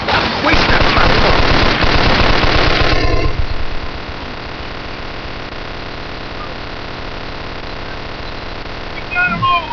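A machine gun firing from a window in the video game Mafia II, a loud rapid burst of automatic fire for about three seconds, then a quieter steady hum with faint voices near the end.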